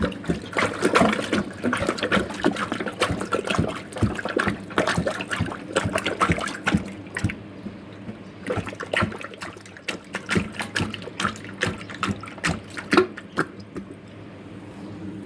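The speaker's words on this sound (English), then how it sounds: "the water is going down the drain. And it's gonna make a gurgle sound" Water trickles and gurgles down a clogged sink drain in an uneven, bubbly stream with sloshing spurts, close by and steady for several seconds, no talking.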